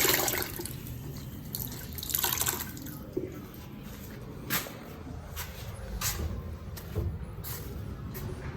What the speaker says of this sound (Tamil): துணி ரொம்ப காஞ்சி போயிடுச்சு, அதனால் துணி நினச்சிக்கிறேன்